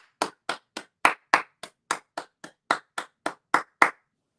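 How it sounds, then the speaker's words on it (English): Fourteen sharp, evenly spaced hand claps, close and distinct with silence between each, by a commentator during a CONCACAF Caribbean Cup football match between Arnett Gardens and Cavalier. "So all I'll do is clap."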